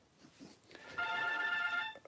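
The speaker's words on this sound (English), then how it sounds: "My phone's ringing." A phone rings with a bright, steady electronic ringtone that swells in about halfway through and holds loud and close for roughly a second, with no talking over it.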